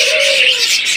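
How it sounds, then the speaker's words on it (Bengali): An adult Australian dove gives a single soft, low coo, close and clear, with a bright hiss of bird-market background behind it. "এক জোড়া অস্ট্রেলিয়ান ঘুঘু পাখি, অ্যাডাল ঘুঘু পাখি"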